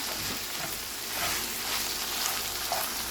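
Ground lamb and tomato paste sizzle steadily in a hot pan while being stirred for shepherd's pie, a continuous close crackling fry with no talking.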